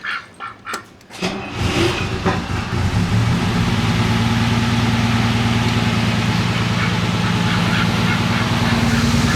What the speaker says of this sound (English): So I've got the car warmed up a little bit. We're kind of fluctuating between, looks like 700 and 800 RPM